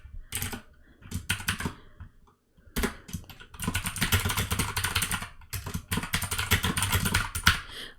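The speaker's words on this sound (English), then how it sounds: "I'll type in the case number." Keystrokes on a computer keyboard while a case number is entered into legal-form software, coming in quick clattering bursts separated by short pauses, close and clear with no talking.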